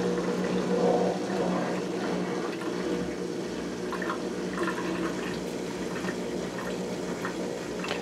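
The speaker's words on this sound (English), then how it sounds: "And it immediately engages a drain cycle." A dishwasher pumping water out in a drain cycle right after its door is opened, giving a steady rushing, gurgling flow that holds close and fairly loud for the whole stretch, with no talk.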